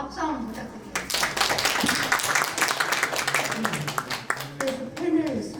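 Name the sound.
audience clapping at a debate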